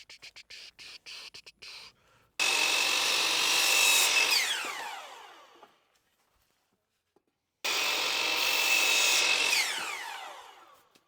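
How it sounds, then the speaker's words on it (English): A power drill driving pocket hole screws into wood for a DIY storage bench outdoors on a deck, two long loud whirring bursts that wind down, preceded by a series of quick clicks, with a gap of near silence between. "I'm actually pocket hole screwing"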